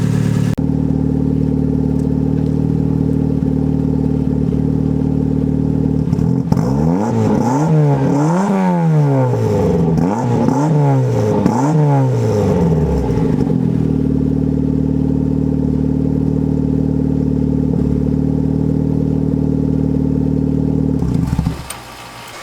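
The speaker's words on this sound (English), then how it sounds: "Well, it definitely sounds better than it did before. Sounds good, nice and quiet. The exhaust sounds clear, I guess." A turbocharged car engine idling after a blown turbo gasket repair runs steady and loud, rising through several revving swells in the middle before settling back to a smooth idle and cutting off near the end.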